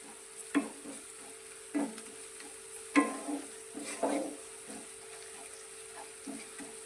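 Garlic, green chilies and onion sauté for ringan oro, a soft sizzle broken by several distinct bursts of spoon-scraping stirring, close and fairly quiet.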